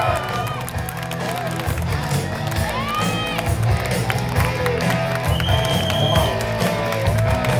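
A crowd at an outdoor strongman contest cheering and clapping, dense and loud, with shouts, whistles and a voice over a public address mixed into the roar.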